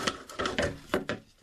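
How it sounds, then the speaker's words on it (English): Hacksaw cutting the nipple off a plastic sump pit, a few quick rasping back-and-forth strokes, close and fairly loud, with no voices. "We just use a hacksaw."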